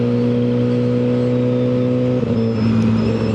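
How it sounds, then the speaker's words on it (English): A steady, loud engine drone from a Suzuki GSX-R1000R sportbike at road speed, with a car passing very close, its rushing sound swelling briefly near the end over the constant hum. "that vehicle was about ready to run me over"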